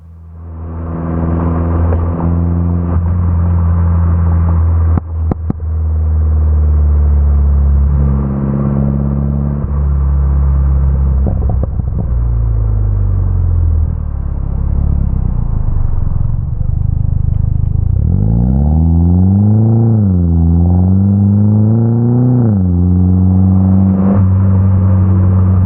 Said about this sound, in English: let's take a little glimpse of how it sounds on burble popping